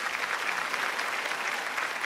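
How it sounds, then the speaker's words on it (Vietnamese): Steady applause from a studio audience congratulating three teams on a Vietnamese charity game show, a dense even patter of clapping that holds at moderate volume for a couple of seconds. "Chúng ta cho tràng pháo tay để chúc mừng cho ba đội."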